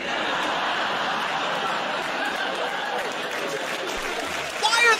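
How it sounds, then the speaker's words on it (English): Audience applause, a steady wash of clapping from a crowd with some laughter mixed in, fairly loud and even throughout, with a voice cutting in near the end. "Why are they clapping?"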